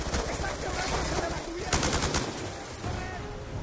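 Gunfire in the Black Ops 2 campaign Strike Force mission, rapid automatic bursts rattling in quick succession, loud and near, with a sharper crack partway through and a faint voice underneath.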